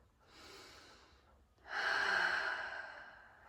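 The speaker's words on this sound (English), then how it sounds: "One more breath." Two deep breaths during a yoga class, a softer inhale followed by a longer, louder, forceful exhale, close to the microphone with no talking.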